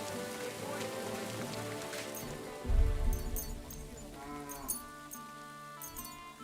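Heavy downpour in Kingdom Come Deliverance II, a steady hiss of rain on surfaces throughout, with a low thud partway and faint animal sounds in the background under a music-like bed.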